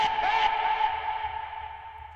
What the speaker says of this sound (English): And then let's add some dimension with inserting a reverb right after that.